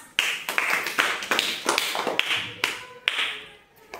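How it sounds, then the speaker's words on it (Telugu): Children in a school class clap together in a brief burst of irregular, close claps that gradually thin out and stop. "క్లాప్స్."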